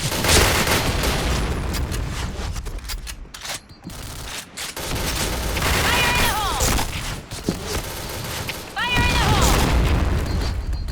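Repeated booming blasts and rapid gunfire bursts from the shooter game PB, loud and chaotic, with excited voices calling out over the action.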